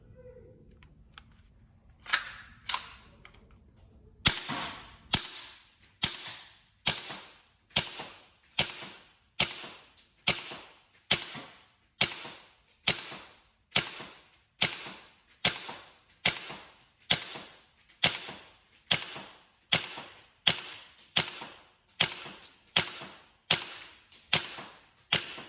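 A repaired Tokyo Marui Desert Eagle gas blowback airsoft pistol fires a full magazine of BBs: about two dozen sharp, evenly spaced cracking shots with slide clack, steady and close, after a brief quiet lead-in.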